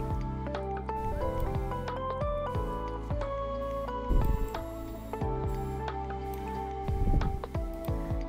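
Watering a garden in The Sims 4: soft dripping and splashing water effects mixed under steady, tuneful game music, with a few louder splashy bursts.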